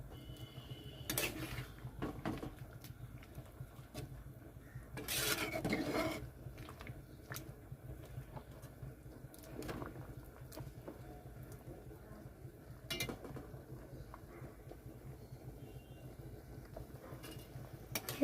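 Potato slices for homemade chips being stirred and turned in a pan, with intermittent scraping and clinking of a utensil against the pan over a steady low background, a few louder bursts of stirring spread through the stretch.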